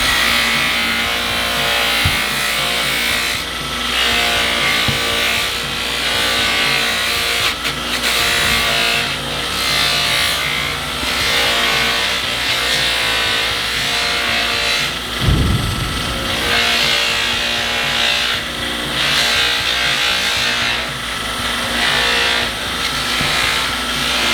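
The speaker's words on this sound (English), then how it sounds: "I gotta sand that just a little bit more" Sanding a recreated 1923 Model T hood ornament by hand, a loud continuous rasping scrub with a rhythmic back-and-forth texture and a brief thump midway, no talking.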